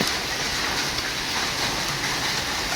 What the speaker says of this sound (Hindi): अब लो ओले ही पड़ गए हैं डायरेक्ट